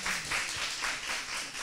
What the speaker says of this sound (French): on applaudit pour Kejevara.